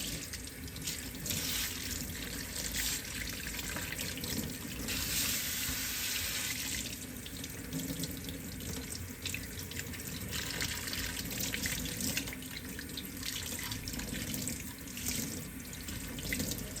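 Water running steadily from a tap while an HP DesignJet printhead is cleaned, a continuous close hiss and splash that holds without pause for the whole stretch, with no talking.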